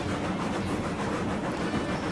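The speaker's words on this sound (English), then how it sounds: "This is the first time I've carried this particular train up this route." Heavy train hauling loaded lumber cars in the video game RailRoads Online, a steady, loud rumbling roll that continues unbroken, with no voices.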